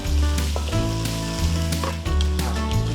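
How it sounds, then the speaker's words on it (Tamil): Salted onions sautéing in a pan for a vegetable kozhukattai dish, a loud close sizzle running continuously with a few stirring scrapes and clinks, no speech. "வெங்காயம் நல்லா வதங்கிடுச்சு"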